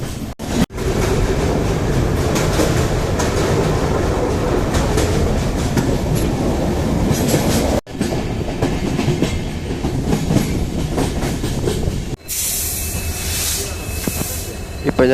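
A train runs near Dudhsagar waterfalls in Goa, its loud, steady rumble and clickety-clack of wheels on rail carrying on close by, broken by a couple of brief dropouts.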